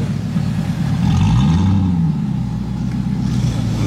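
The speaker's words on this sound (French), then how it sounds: "On dirait qu'elle a un moteur d'américaine." A Batmobile with an American-style engine revs nearby outside the Hôtel Hermitage, a loud, continuous rumble that swells to a throaty peak partway through before settling back to a steady growl.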